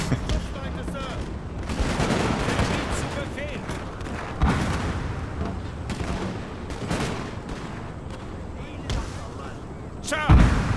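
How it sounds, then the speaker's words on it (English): Cannons fire in a Napoleon: Total War battle for Austria: repeated heavy booms, with sharp blasts near the middle and the end, over a continuous crackling battlefield din. "these cannons firing"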